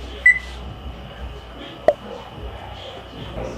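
Two short, bright electronic beeps from an oven being set to preheat to 450, one near the start and one in the middle, over a quiet room hum.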